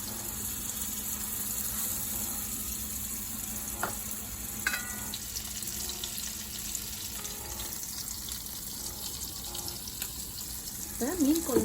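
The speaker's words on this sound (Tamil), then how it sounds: "மசாலா போட்ட மீன் எடுத்து நல்லா சிஸ்லிங் சவுண்டு கேட்குது பாருங்க" Masala-coated fish shallow fries in oil with a steady, soft sizzle throughout. A few light clinks sound along the way, and a louder clatter and a voice come near the end.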